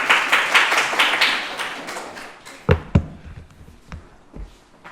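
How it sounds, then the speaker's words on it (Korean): Audience applause after a youth student project presentation: dense clapping fills the first half and then thins to a few scattered, sharper claps as it fades out. "박수 부탁드립니다."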